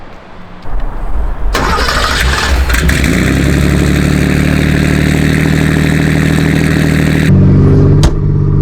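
A straight-piped Porsche 911 930 Turbo cranks briefly, then fires into a loud, raw idle that holds steady close by. A short blip of revs comes near the end, with no talking over it.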